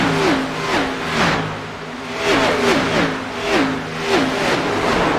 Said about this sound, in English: We hear those cars just zooming by us here through the camera.